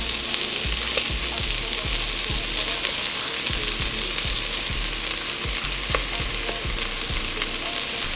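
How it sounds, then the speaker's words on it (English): Onions sauté in a hot pan for beef ramen soup, making a continuous close sizzle with rhythmic scraping stirs repeating about every half second, no one speaking. "while we saute these onions"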